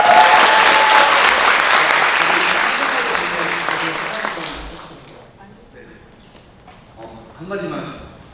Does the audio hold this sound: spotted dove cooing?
no